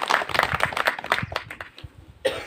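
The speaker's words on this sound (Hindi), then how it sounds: "एक बार जोरदार तालियां हमारे सभी पदाधिकारियों को।" Audience clapping at a village temple committee event, a burst of individual hand claps that thins out and fades, followed by a brief pause and one more clap at the end.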